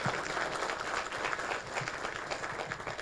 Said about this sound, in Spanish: Pierre Schori, otro aplauso.